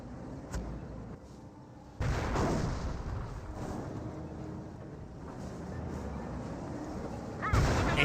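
A Panther tank's main gun firing in a Company of Heroes World War II battle, a few distant, muffled booms over a low rumbling battlefield bed, fairly quiet throughout.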